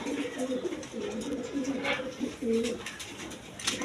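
Two pairs of pigeons cooing in a seller's loft, giving repeated soft, low throaty coos close by, overlapping in short phrases amid light background noise and occasional talk.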